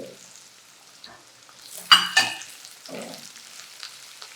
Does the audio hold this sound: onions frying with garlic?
yes